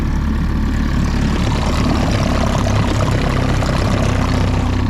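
A two-stroke outboard boat engine drones loud, steady and unbroken, with a dense buzzing roar close by and no pauses.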